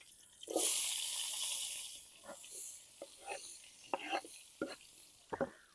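A burst of loud sizzling as chopped onion hits a hot frying pan, followed by scattered scraping and stirring sounds with faint crackle underneath.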